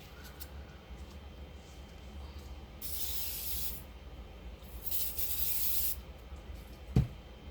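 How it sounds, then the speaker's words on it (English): Glue sprayed onto a wooden sign in two hissing bursts about a second each, separated by quiet, followed by a sharp knock near the end. "So I have sprayed a glue on it."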